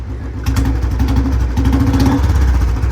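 Bullet motorcycle with a modified bend silencer idling loud and close, a deep, steady thumping beat that lifts briefly as the throttle blips.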